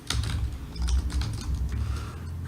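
Fast, close typing on a computer keyboard under a large overhead microphone, a dense run of crisp key clicks and thumps with no voices.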